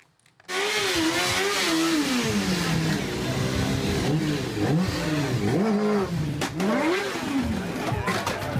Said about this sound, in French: il fait ronfler le moteur et tout